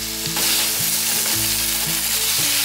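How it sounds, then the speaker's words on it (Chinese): Vegetables stir-fried over medium-high heat in a wok after seasoning with vegetarian oyster sauce, salt, sugar and pepper: a steady loud sizzle with rhythmic scraping and tossing strokes, close up, no voices. "开中大火快炒一下"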